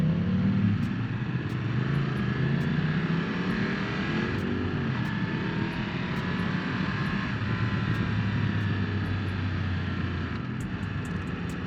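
Triumph 1200cc parallel twin motorcycle on a ride, a steady engine drone with rising and falling revs and wind rush, close and continuous, with faint clicks.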